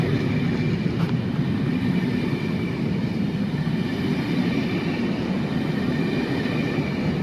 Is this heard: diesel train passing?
yes